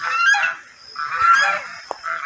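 Geese on a banana farm honk loudly and nearby in two long, nasal calls with a short gap between them, ending with a brief knock and the start of another honk.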